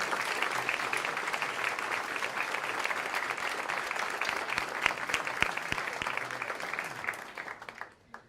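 Sustained applause from a large audience honoring special guests at a Law Day 2022 event, a dense, steady wash of clapping that carries on for several seconds before thinning out at the end.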